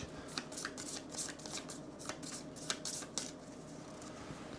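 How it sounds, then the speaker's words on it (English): A deck of cards being shuffled for a tabletop board game, a close run of quick riffling bursts with brief pauses between them, quiet and alone with no talk. "We'll shuffle this deck."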